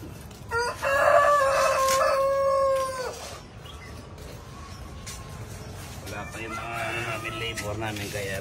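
A rooster crows loudly and close for a few seconds, then chickens cluck and squawk nearby while a person talks.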